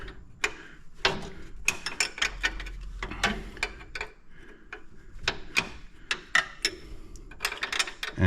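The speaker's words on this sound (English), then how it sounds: "grab the 1/2-inch wrench" A 1/2-inch wrench ratchets and clicks while tightening a fitting on the fuel system of a 1953 Buick, with close, uneven bursts of metallic clicking and scraping and no talk.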